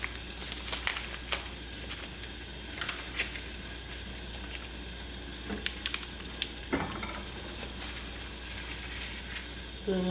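Butter melting in a pan for a fish curry gives a steady low sizzle throughout, broken by a few sharp clicks and scrapes of a utensil, with no talking.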